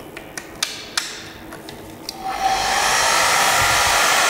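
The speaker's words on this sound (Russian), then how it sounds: "Сейчас проверим фен, как работает, не работает." A hair dryer in a gym locker room switches on after a few sharp taps and clicks, then runs as a loud, steady, close-up whoosh until the end.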